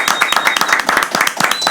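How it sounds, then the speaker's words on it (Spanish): A studio audience at a Dominican talk show gives a brief round of clapping to welcome a guest, a former women's minister, with quick, closely spaced claps heard up close. "Un aplauso."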